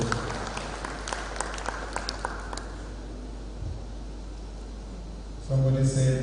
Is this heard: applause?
yes